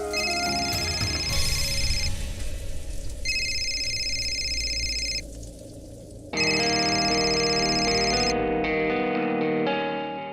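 A telephone ringing in a series of electronic trills with strong effects and distortion, pausing briefly and then resuming.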